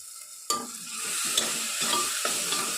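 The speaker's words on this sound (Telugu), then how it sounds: "టమోటా బాగా మెత్తబడేంత వరకు వీటిని బాగా వేయించుకోవాలి" Tomatoes and green chillies fry in an oily pan for mutton curry, starting with a sudden sizzle as they hit the pan, then a continuous crackle punctuated by several scraping stirs of a ladle.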